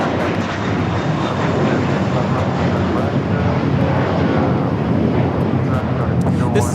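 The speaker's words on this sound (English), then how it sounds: "This is American Airlines 238 taking off to JFK on the A321." American Airlines Airbus A321 taking off from Los Angeles LAX for JFK, a steady loud broadband jet roar holding throughout, with speech mixed in over it.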